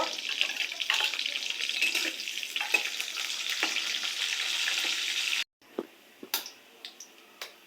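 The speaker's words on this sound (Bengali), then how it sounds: "এই যে দেখুন, পেঁয়াজ আর মরিচ তেলের ভিতরে দিল।" Chopped onion and chili frying in hot oil in a wok, a continuous sizzling hiss for several seconds, then a cut to quieter stirring clicks and clatters.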